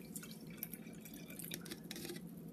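Juice trickles and drips as it is poured back into a container, quiet irregular splashes close by with no talk.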